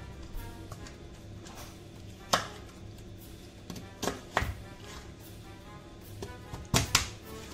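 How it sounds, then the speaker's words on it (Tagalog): Chicken is chopped with a knife on a cutting board for chicken adobo, a few sharp irregular thwacks spaced apart, close and fairly quiet between blows. "Done for chopping."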